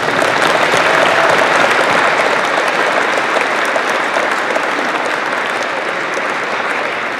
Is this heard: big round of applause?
yes